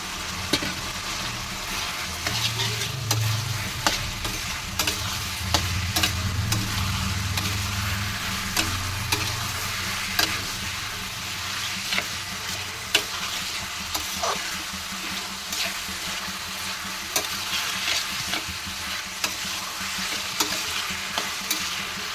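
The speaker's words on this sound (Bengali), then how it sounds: "এবার আমি ইঁচড়টা দিয়ে ভালোভাবে কষাতে থাকবো।" Young jackfruit is stirred and fried in oil in a pan, giving a steady sizzle with repeated scraping and stirring knocks over a low background hum.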